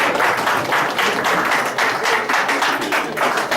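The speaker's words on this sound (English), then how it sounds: "Let's clap for Jesus." A church congregation claps together in a steady rhythm of dense, loud handclaps that fills the room throughout, with no speech over it.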